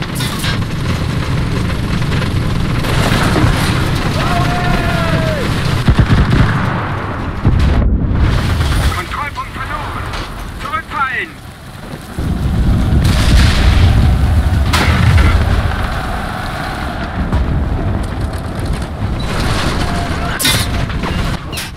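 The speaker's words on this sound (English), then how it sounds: "Artillery! Fire!" Artillery barrage in the WWII shooter Enlisted during the Battle of Berlin at the Reich Chancellery: sustained loud booming explosions rumble continuously, with a brief lull around the middle before the heavy shelling resumes, and voices break through faintly amid the chaos.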